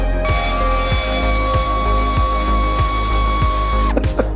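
An air-powered sander works on a car part for a supercar build, making a steady high whine with evenly spaced rhythmic knocks about every half second before it cuts off abruptly near the end.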